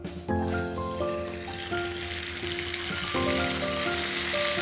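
Dried rice and semolina papad fries in hot oil with a steady, close sizzle and crackle that builds slightly toward the end, heard under faint background music.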